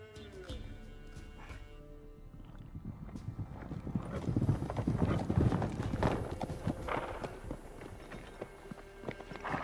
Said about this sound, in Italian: Chi è? È arrivato qualcuno a cavallo?